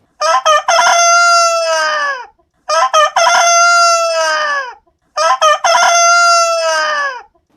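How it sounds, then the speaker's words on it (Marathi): A rooster in Sangli crows loudly and close by three times in a row, each long cock-a-doodle-doo separated by short pauses. "आता हा काका ओरडणारा कोंबडा पाहूयात"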